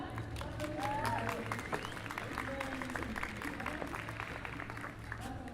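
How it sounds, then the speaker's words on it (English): Steady applause from a seated audience at a youth talk event greets a speaker, with a few voices and whoops mixed into the even clapping. "Would you give a big round of applause for Mr."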